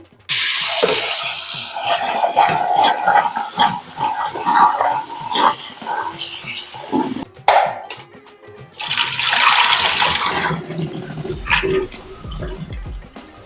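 Fresh herbs including rosemary being washed in water at home, with loud sloshing, splashing and rinsing in bursts, a short pause near the middle, then more splashing and a low thud toward the end.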